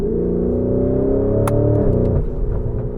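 2025 Lamborghini Urus SE engine revving on a downshift, a loud close rumbling blip that rises and settles with a brief crackle, heard on its own.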